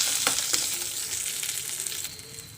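Mustard seeds, cumin, green chillies, curry leaves and onions fry in hot oil, giving a steady close sizzle with a few sharp pops and crackles near the start, with no talking.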